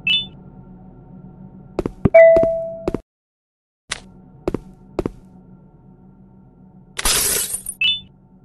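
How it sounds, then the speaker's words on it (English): A glass window smashed with a crowbar in a horror video game: several sharp knocks and clunks, a brief electronic ding, then a loud bright shatter near the end amid soft game beeps and a low ambient hum. "I should be able to break the glass with a crowbar or something."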